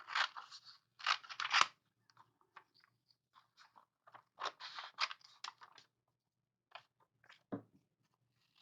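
Scissors cutting out a magazine page for a paper craft, a series of close, crisp snipping and crunching bursts separated by short pauses, with no talking.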